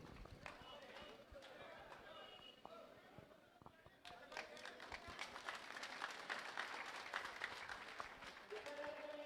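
A large outdoor political rally crowd in Sridungargarh claps loudly to welcome Hanuman Beniwal. The scattered, sharp claps swell in the second half, mixed with crowd chatter and talk over a loudspeaker.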